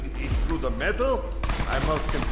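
A corrosive-damage gun in the video game Borderlands 2 fires in a dense, rapid burst that starts partway through and keeps going to the end, loud and close, while someone talks over the game audio.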